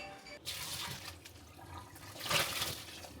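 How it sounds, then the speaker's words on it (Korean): Blanched gompi seaweed is rinsed under cold water in a kitchen, a soft, fairly quiet splashing and trickling that swells briefly near the end, with no talking. "찬물로 헹궈 응 헹궈야 돼"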